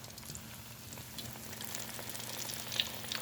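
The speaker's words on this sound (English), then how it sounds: "So now we're going to add the catfish, into the grease, into the oil." Catfish nuggets frying in vegetable oil, a steady close crackling sizzle with dense popping bubbles throughout and no talking.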